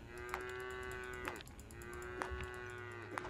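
A cow moos in the Craftopia video game, two long drawn-out calls with a steady harmonic tone, heard alone with no talking over them.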